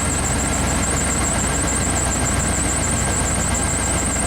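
A motorhome engine idles steadily to charge a severely discharged battery, a loud, constant low rumble and vibration with a faint wavering high whine above it and no voices.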